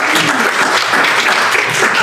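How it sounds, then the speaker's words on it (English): A short, dense burst of applause at a city charter reform committee meeting, loud and continuous for about two seconds. "let's give a round of applause"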